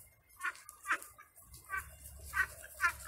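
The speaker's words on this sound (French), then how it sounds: "Vous voyez mes deux nouvelles cannes." Two new ducks, one light brown and one dark brown, give a handful of quiet, nasal quacks at irregular intervals in a calm outdoor setting.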